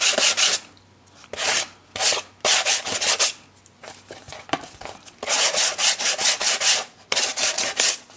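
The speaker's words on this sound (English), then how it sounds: "I'm going to take a sanding block" A sanding block, a Tim Holtz Ideology block, scrapes back and forth across a paper edge on a scrapbook or mini album cover, in close, loud bursts of rapid rubbing separated by short pauses.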